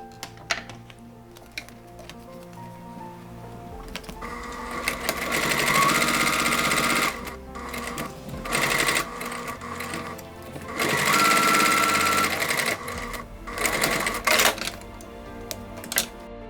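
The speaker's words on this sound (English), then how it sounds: "It's only the strap itself that we're going to sew right now." A sewing machine stitches a bag strap in several loud, fast whirring runs separated by brief pauses and handling noises, close and clear with no talking.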